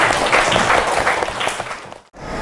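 A classroom of students applauds a classmate, with dense, close, loud clapping that runs steadily before cutting off briefly near the end and then resuming.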